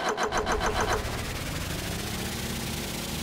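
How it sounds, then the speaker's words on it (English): Two engines in the video game Stormworks crank with a rapid rhythmic starter chatter, then catch and settle into a dense, steady running roar that fills the rest, with no talking over it. "Both engines are starting."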